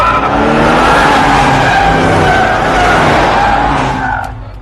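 Several vehicles tear away with tires skidding and squealing, a loud, close, continuous roar of engines and rubber that holds for a few seconds before fading slightly at the end.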